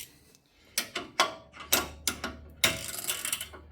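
Ratcheting clicks from a wrench tightening hardware while installing HaloLifts coilovers on a vehicle, coming in several short close bursts separated by brief pauses.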